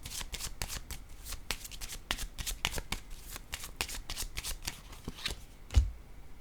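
Tarot cards being shuffled close by, a rapid series of crisp riffles and slaps, ending with a louder thump as the deck is set down.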